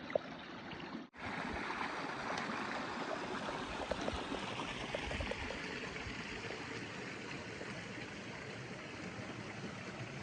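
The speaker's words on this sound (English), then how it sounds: "is the second of several crossings of Agua Caliente Creek this morning." Agua Caliente Creek flows over a trail crossing on the Pacific Crest Trail, a steady, close rushing and trickling of water that runs for the whole stretch after a brief dip near the start.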